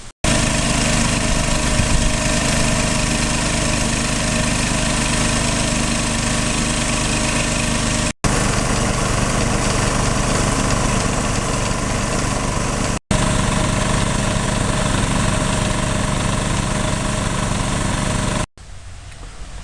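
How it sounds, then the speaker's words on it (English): Sandblaster fed by a Makita air compressor, blasting with black diamond slag abrasive on an FJ40 frame; a loud, continuous roaring hiss with engine-like hum runs throughout, broken only by a few brief cutoffs. "So now I have almost 3 times the volume coming from the Makita to power the sandblaster."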